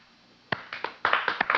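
A studio audience on the TV show Attack of the Show gives a slow clap: a few scattered, sharp handclaps that start sparse and then come quicker and louder as more people join.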